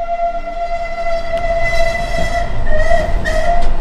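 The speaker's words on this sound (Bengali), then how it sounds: "একটা বাষ্পচলিত ট্রেন ইঞ্জিনের আওয়াজ তিনি শুনতে পেলেন।" A steam locomotive sounds a steady, loud, tonal whistle over a rumbling railway background, held almost unbroken throughout.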